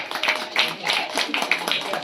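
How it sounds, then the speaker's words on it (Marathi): A small audience claps at a Kalwandwadi Kulswamini anniversary gathering, a brief uneven burst of hand claps with speech mixed in. "जोरदार टाळ्या वाजवायच्या, जोरदार टाळ्या"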